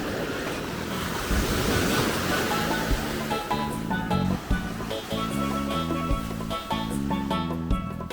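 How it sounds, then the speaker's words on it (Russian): Big ocean waves surge onto a beach at Bukit, Bali, near Uluwatu, giving a loud, continuous roar of surf that stays close and unbroken, with no talking. "и все-таки волны, правда, очень большие"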